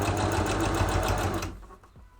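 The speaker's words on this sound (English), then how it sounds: "sorry if the sewing machine is loud though" A sewing machine stitching a hat runs in a fast, steady needle clatter for about a second and a half, then stops, leaving a few faint handling knocks.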